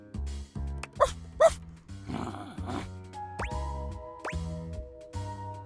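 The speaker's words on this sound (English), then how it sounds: "Bark again to confirm." A dog in the video game Date Everything barks and groans in a run of short, close woofs and yips mixed with game sounds, with no talking.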